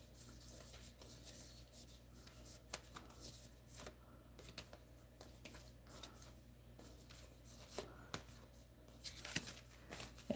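Tarot cards are shuffled by hand in a quiet room, a faint, close run of soft riffles, slides and taps with irregular rhythm, with no talking.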